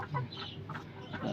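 Chickens cluck softly in a coop where eggs are laid, a continuous low murmur of fowl calls at moderate-to-faint level with no voices.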